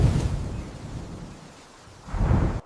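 Thunder from an approaching storm over open plains rolls as a low, heavy rumble that fades briefly, then swells again before cutting off abruptly.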